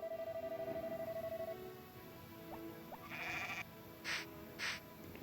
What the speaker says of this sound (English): So we're going to say hello to the barn animals. Still 2 sheep and 1 cow.